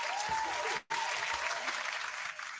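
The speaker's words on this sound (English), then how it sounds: "Clap it up for folks." Steady dense applause from a podcast audience, loud and continuous, with a brief dropout near the middle before the clapping resumes at full strength.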